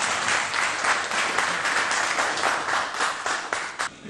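An audience at a ceremony applauds in a dense, steady burst of many hands clapping, close and fairly loud, tapering slightly at the end.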